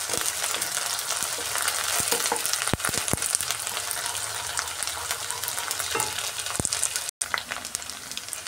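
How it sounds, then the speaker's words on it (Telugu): Ginger paste frying in a pan for egg semiya, a steady close sizzle with scattered stirring scrapes and clicks, briefly cut out near the end. "హాఫ్ టీ స్పూన్ అల్లం పేస్ట్ వేసుకుని పచ్చి వాసన పోయే వరకు ఫ్రై చేసుకుందామండి"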